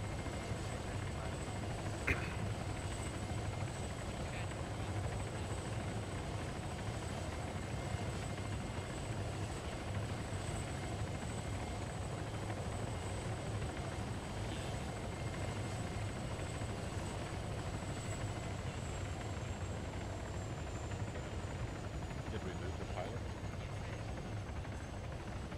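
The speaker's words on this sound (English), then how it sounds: "That helicopter makes me nervous." A helicopter in the Arma 3 video game drones as a steady, fairly faint rotor and engine hum for the whole stretch, with occasional small clicks and a thin high whine above it.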